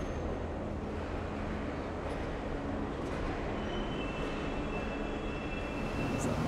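Rail work train rolling slowly toward the station hall at the new Stuttgart 21 through station, a steady dense rumble of wheels and carriages filling the whole stretch, with faint high squeals drifting over it.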